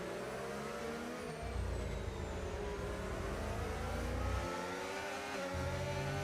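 An F1 25 race car in a Formula 3 race at Brazil brakes hard and downshifts to third gear, the engine note stepping down through the gears with a loud low drone and a whining tone, close and continuous.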